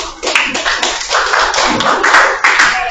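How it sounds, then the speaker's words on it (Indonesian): A classroom of students claps for group 4, a steady, close, lively patter of many overlapping hand claps that lasts the whole short stretch with no talking over it. "Oke, kita beri aplaus untuk kelompok 4"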